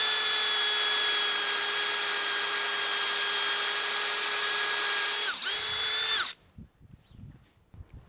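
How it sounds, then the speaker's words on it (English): A power drill bores into a backyard maple tree trunk for tapping, a steady high whine running loud and close for about six seconds, dipping briefly under load before cutting off abruptly, followed by faint handling noises. "So I've got my drill and I'm going to drill it right here"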